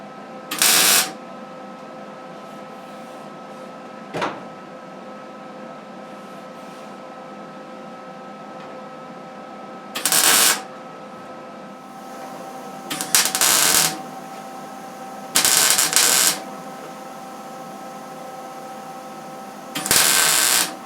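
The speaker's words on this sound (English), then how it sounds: "But first I'm going to go ahead and weld this piece in all the way down." Short bursts of welding on a car's rust repair patch piece above the windshield, several loud crackling buzzes of about a second each separated by quiet pauses, with no talk.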